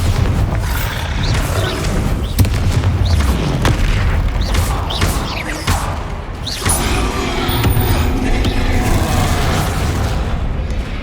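Bombarda blasting spell explosions in Hogwarts Legacy: a series of loud, booming blasts bursts out one after another over a rumbling, crashing battle background.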